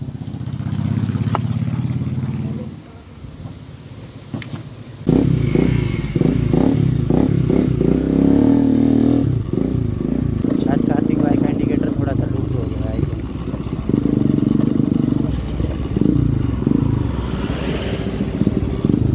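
Several Bajaj Pulsar NS200 motorcycles ridden on a road, a steady engine drone with rattling and clatter running throughout, close and loud, while people talk over it.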